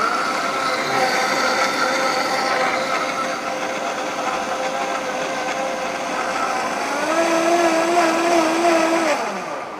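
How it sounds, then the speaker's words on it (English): A blender runs loud and steady, crushing ice into a Pisco Sour mix with a continuous grinding whir whose pitch shifts near the end as the ice breaks down. No voices are heard. "So all the ice is going to be blend through the Pisco Sour mix."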